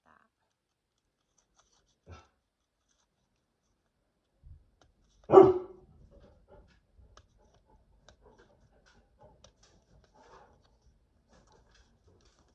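A dog indoors, downstairs beside a crafting table behind closed California shutters, gives one sharp loud bark amid otherwise quiet room noise with small scattered ticks and taps.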